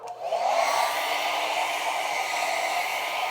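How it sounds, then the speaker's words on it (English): A hair dryer blows steadily, a loud continuous whooshing hum with an airy hiss, starting up quickly and holding an even level throughout. "I finally have a reason to use a hairdryer."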